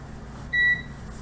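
Oven signalling it has preheated: a single short electronic beep, close and clear, standing alone over a low background hum.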